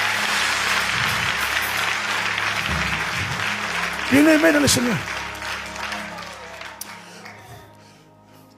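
A church congregation applauds the musicians, a dense sustained roll of many hands clapping that fades toward the end, with a preacher's voice speaking over it.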